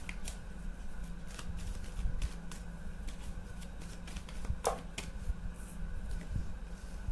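Tarot cards shuffled and drawn during a Hindi tarot reading, a steady soft riffling and slapping of cards with a few sharper snaps, close and continuous over low background hum.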